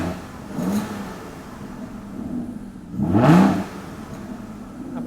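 An Aston Martin engine with its exhaust valve closed revs twice, each a short muffled rise and fall in pitch, the second stronger, over a low subdued idle between.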